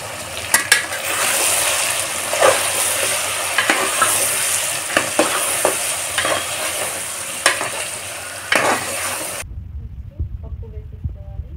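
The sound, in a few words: stirring ginger paste and turmeric frying in pan for sambar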